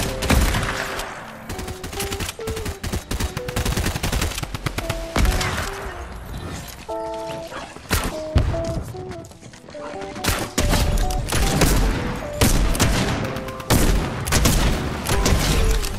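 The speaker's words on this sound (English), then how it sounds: "Fucking laser gun." Rapid bursts of laser gun fire from a Fortnite match, dense and loud, running in long fusillades with short pauses over a backdrop of game music and effects.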